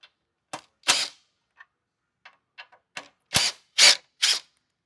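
A 10 mm wrench loosens the bolts on a Hurricane 200 Pro's side panels: sharp metallic snaps and ratcheting clicks in irregular bursts, with a few louder cracks toward the end, close and isolated.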